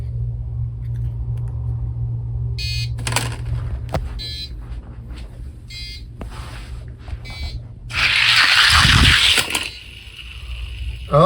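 Hot Wheels diecast Lamborghinis, a Diablo against a Countach, race down a toy drag strip: a steady low rumble with rattling plastic-track clatter, brief electronic beeps, and a louder whooshing burst near the end.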